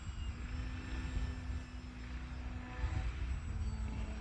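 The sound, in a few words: RC biplane flying an ailerons-only roll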